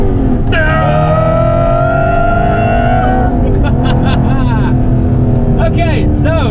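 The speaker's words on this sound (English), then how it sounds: "this is the loudest Aston Martin we ever drove in" Aston Martin Vantage GT8 engine roars loudly from inside the cabin, a steady high rev swelling then easing off, with people talking over it toward the end.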